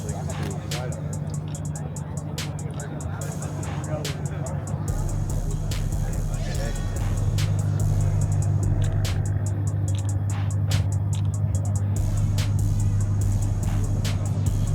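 Cars rumble at a street racing meet, a continuous engine drone with occasional vehicles passing nearby, while people talk over the noise.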